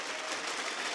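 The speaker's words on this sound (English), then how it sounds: "Please give them a big round of applause." Brief, fairly faint wash of audience applause at an esports Rainbow Six Siege invitational broadcast, a steady blur of many hands clapping without distinct individual claps.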